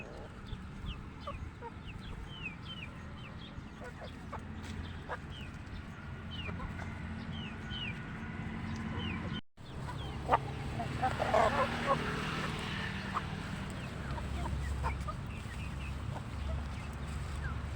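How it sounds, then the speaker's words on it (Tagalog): Native chickens cluck and peck at fresh grass outdoors, with repeated soft clucks and scattered calls over steady ambient noise, a brief dropout midway, then a busier stretch of nearby activity. "pinalabas po natin muna yung mga alaga nating manok para makatuka sila ng mga preskong damo"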